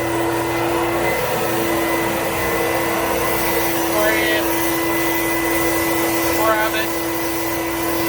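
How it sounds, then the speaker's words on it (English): Brand-new Bissell Big Green carpet cleaner vacuuming up a damp carpet, a steady loud motor whine running throughout with two brief rising squeaks, while people speak briefly over it. "Vacuum it."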